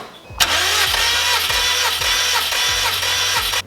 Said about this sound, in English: Let's crank this over one more time.